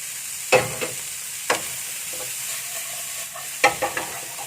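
Green beans and egg frying in a pan for stir-fried beans with dried shrimp and scrambled egg, a soft steady sizzle broken by a few sharp scraping stirs of a utensil.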